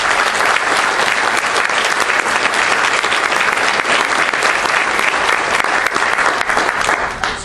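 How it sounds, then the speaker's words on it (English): Loud, dense applause fills a school board meeting room to honor the school's sports teams, continuing steadily for over seven seconds before tapering slightly at the end. "they deserve a round of applause"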